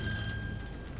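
A telephone rings in the video game Grand Theft Auto V. One short electronic ring tone sounds clearly with steady high pitched tones, alone with no voices.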